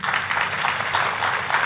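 A church congregation claps in a continuous, dense wave of applause, steady and fairly loud throughout with no pauses.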